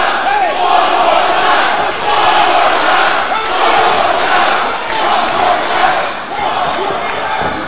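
A wrestling crowd at a tag team match cheers and shouts loudly in surging waves, close and continuous, with a few thuds and slams from the ring underneath.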